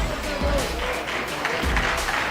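Audience at the 2002 World Pool Championship final applauding a shot, a steady wash of clapping from a crowd that sustains evenly throughout, with faint murmuring mixed in.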